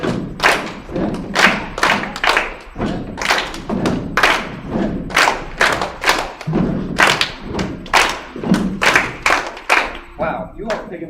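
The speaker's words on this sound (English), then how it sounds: "It's going to go step, clap, step, step, clap, clap, step," Elementary music students stamp and clap a patterned step-clap rhythm together in a classroom, sharp hand claps alternating with heavier foot thuds in a steady, repeating groove.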